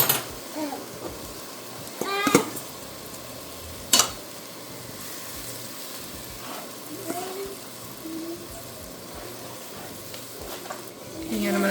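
A bouillon mix thickens in a pot while it is stirred. A soft bubbling sizzle runs throughout, with scraping stir strokes and a few sharp clatters against the pot, and voices come up faintly at times.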